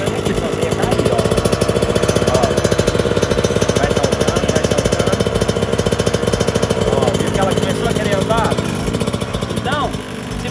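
Small Yamaha YZ-65 kids' dirt bike engine revving loudly and steadily up close, a rapid buzzing two-stroke drone with slight pitch rises, continuous for the whole stretch.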